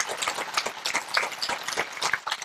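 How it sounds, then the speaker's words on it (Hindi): Audience clapping at a yoga and Ayurveda training camp, a quick burst of scattered hand claps from a crowd, moderately loud and uneven, lasting a couple of seconds without talk. "आप सबके लिए एक बार जोर से ताली बजाते हैं।"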